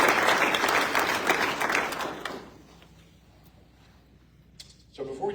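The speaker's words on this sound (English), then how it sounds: "Big round of applause to the folks." Loud applause from a crowd at a military assumption of command ceremony fades out over a couple of seconds. A few faint taps follow, then a voice begins speaking near the end.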